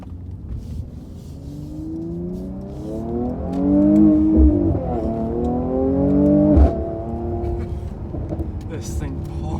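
A 2020 Mercedes-AMG C43 sedan accelerating hard on a back road, engine note climbing through the revs and dropping at gear shifts, heard loud from inside the cabin with a steady road hum.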